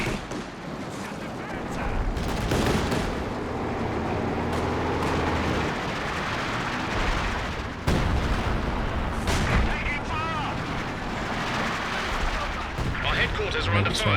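Rocket artillery barrage in Company of Heroes 2, including Katyusha rockets, with rumbling booms and bursts of gunfire layered over a continuous battle din, some sharp impacts standing out.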